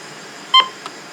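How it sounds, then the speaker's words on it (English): A single short electronic button beep from a First Alert WX150 weather radio, the correct-tone confirmation chirp, sharp and close against a quiet background. "I don't think any other radio has those button beeps."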